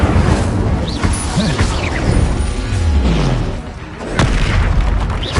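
Confringo spell blasts in Hogwarts Legacy amid dense combat: booming, crashing bursts layered over continuous loud noise and sweeping magical tones, with a sharp hit near four seconds and another surge after.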